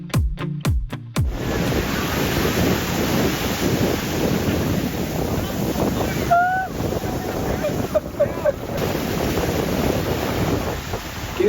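Ocean waves wash steadily onto a Hawaii beach, a continuous broad roar of surf mixed with wind buffeting the microphone, with a brief faint chirp partway through.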